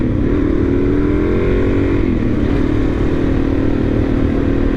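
A 2023 Suzuki DR-Z400SM supermoto single-cylinder motorcycle pulls away from a stop, its engine droning loud and steady with a slight rise in pitch as it accelerates, wind noise mixed in.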